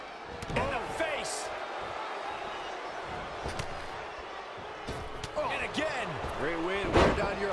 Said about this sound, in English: There he goes, crashing to the floor.